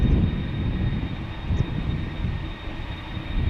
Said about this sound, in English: American Airlines 221 to Dallas is also coming this way.